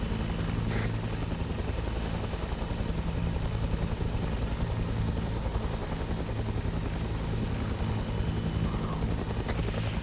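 Helicopter in the ArmA 3 video game, flying in formation: a loud, continuous rotor thrum and engine drone with a steady beat, unbroken for the whole stretch.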